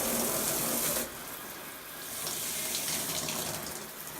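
Water runs steadily from a shower head wand, a loud hiss that drops briefly after the first second, then swells back to a constant spray.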